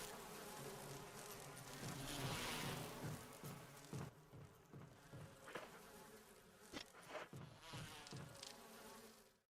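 Bees from a beehive in the Resident Evil remake swarm with a thick, continuous buzzing drone, loud at first and then thinning, cut by a few sharp taps and bursts.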